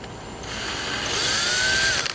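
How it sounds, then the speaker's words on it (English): Steady mechanical whirring of a hand drill turning during a Dynojet carburetor rebuild, close by, gradually rising in pitch and loudness before easing off at the end. "we're gonna go ahead and use our drill"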